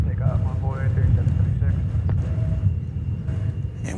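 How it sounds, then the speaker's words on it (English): A five-year-old Delta Airbus A220 inbound from Salt Lake City approaches DFW Airport, a low, steady engine rumble with faint tonal whines over it. "Delta Flight 2811 about to get here from Salt Lake City. It's going to be an Airbus A220"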